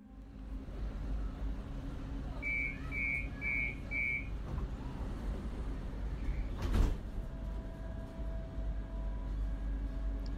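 A train carriage door at a station late at night: a short run of chime beeps, then a brief sliding whoosh over a constant low carriage rumble.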